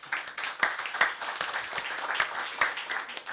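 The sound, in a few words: audience applause welcoming panel guests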